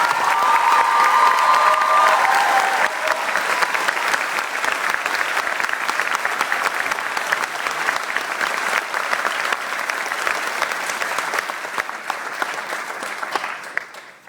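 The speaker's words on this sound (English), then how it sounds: "let's have one more round of applause for Hayes" A large crowd applauds loudly for about fourteen seconds at a Vance Hays Day presentation. Cheers and children's shouts mix into the steady clapping, which fades at the end.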